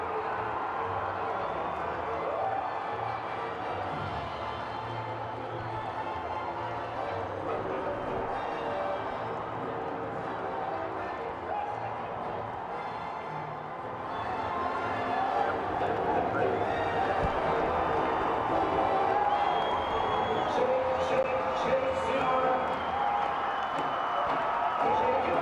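A large crowd of Red Sox fans cheers and claps at Fenway Park after Boston clinches the wild card, a steady broad roar throughout, swelling louder in the second half, with a commentator speaking over it.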